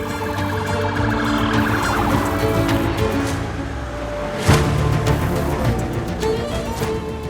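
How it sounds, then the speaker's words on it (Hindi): Ambulance siren wailing continuously from a moving vehicle on a drama scene, loud and steady with a sharp thump midway and road rumble beneath. "गाड़ी एम्बुलेंस दूर जा रही है"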